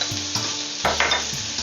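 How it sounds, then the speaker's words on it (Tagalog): Tomato and chili pepper fry in a pan for fish adobo, a steady sizzling hiss broken by a few close scraping stirs of the spoon, with no one talking. "Give it a stir, mix it up."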